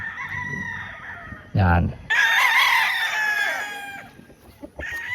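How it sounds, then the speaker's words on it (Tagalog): Roosters and hens at a backyard coop cluck and crow nearby. A rooster's crow rises loudly midway, followed by a long, bright hen cackle, with scattered clucks around them and someone speaking briefly in Filipino. "Pang-anim dito sa manok natin mga bossing."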